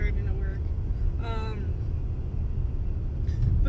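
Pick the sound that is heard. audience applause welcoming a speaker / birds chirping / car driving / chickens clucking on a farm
car driving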